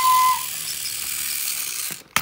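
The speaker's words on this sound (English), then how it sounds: "Just then, they heard a whistle." Cartoon steam engine whistle from Thomas and Friends: one short, clear, high whistle blast at the start, followed by a steady hiss and a faint clunk at the end.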